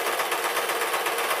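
A sewing machine stitches a pink dress, running in a fast, even, whirring pulse of needle strokes that stays close and steady throughout.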